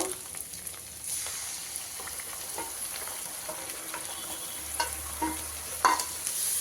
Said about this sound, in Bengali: এবার দইয়ের মিশ্রণটা দিয়ে দেব